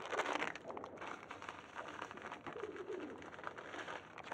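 Pigeons cooing in a loft, soft rolling coos and rustling from several birds nearby, faint and continuous over a crackly background.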